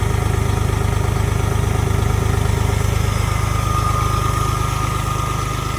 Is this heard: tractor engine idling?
yes